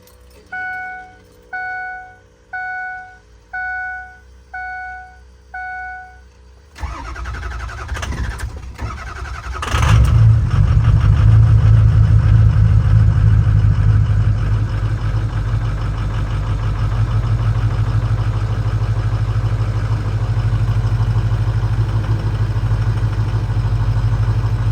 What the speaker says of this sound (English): it's been idling here for a minute and it hasn't gotten mad